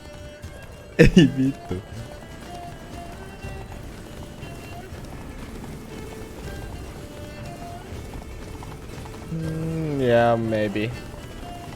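Hoofbeats of the horse Roach galloping in The Witcher 3, a rhythmic clip-clop running under game sound, with a loud sharp burst early and voices talking briefly over it.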